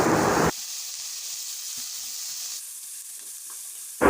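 Chopped beans, carrot and potato sizzle loudly as they hit a hot pan with tomato, then settle into a quieter, steady frying hiss before another loud burst at the end.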